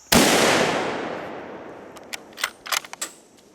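A single loud rifle shot fired at a buck during a South Carolina velvet deer hunt cracks close by, its report rolling and decaying for over a second before a few faint rustles and clicks.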